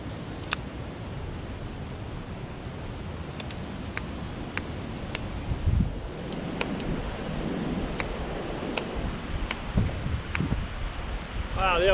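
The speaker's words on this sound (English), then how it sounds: "Wow, the old wind's getting up." Steady outdoor wind roars as a broad, constant rush with gusts buffeting the microphone, alongside faint intermittent clicks and taps during woodland bushcraft work.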